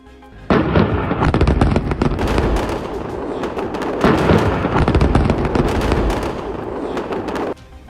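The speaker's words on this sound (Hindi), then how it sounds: "जिसमें पहले एक छोटा धमाका होता है और इसके बाद लगातार बेरूत में कई बड़े धमाके होते हैं" Air strike explosions in Beirut roar as a continuous heavy rumbling barrage of blasts that starts suddenly and keeps going loud for about seven seconds, then cuts off.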